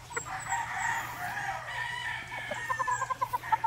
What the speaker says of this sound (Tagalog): Ito po ang ating brood cock.